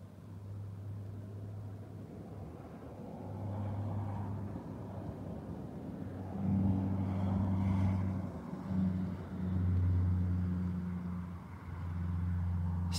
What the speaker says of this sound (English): There's still a lot of cars on the road.